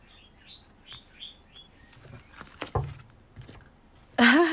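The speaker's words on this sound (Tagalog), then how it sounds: "Narinig mo yung aking ibon?" A small pet bird chirps and whistles indoors in short repeated notes, fairly soft against low room noise, with a few bumps and a loud burst of noise at the end.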